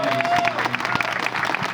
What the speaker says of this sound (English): Felicia deserves a thunderous round of applause